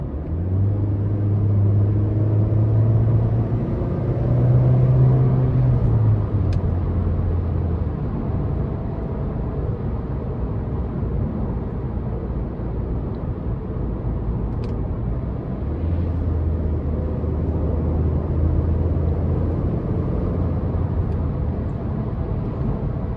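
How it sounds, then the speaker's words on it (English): A 2016 Chevy Sonic RS hatchback's 1.4-liter turbo engine, 90,000 miles, drones steadily from inside the cabin, rising in pitch as it accelerates, with road rumble underneath throughout. "Now I'm gonna just be quiet for a second so y'all can kind of hear the car."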